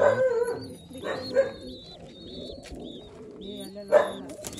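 Pigeons offered for sale coo softly in a few low, short bursts, with a brief louder call and faint high chirps around them.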